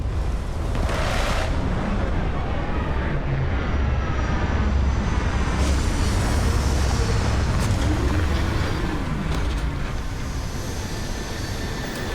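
A spaceship landing in Starfield, a loud, steady engine roar with rumbling thrust that holds throughout without pause.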